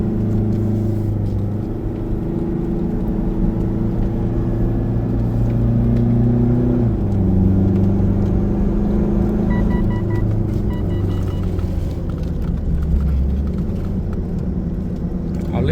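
A small car's engine labours in a low gear up a steep mountain road around Phu Toei National Park in Suphan Buri, a continuous loud drone with pitch shifting as it strains and shifts, occasional faint talk underneath.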